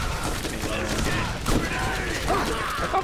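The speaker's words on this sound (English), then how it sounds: "Heck, I'll keep shooting grenades." Grenades are fired in the video game Borderlands, giving a rough stream of muffled explosive bursts and mechanical clatter, with a voice talking over them.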